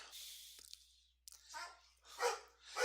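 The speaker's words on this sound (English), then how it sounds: "you're going to hear my dog barking" A dog barks at the mailman indoors: a short yip, then a run of several rough, moderately loud barks in an irregular rhythm, heard alone without talk.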